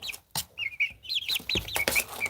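Chickens clucking at close range in a series of short, repeated calls with brief pauses between bursts, loud and clear with no one talking.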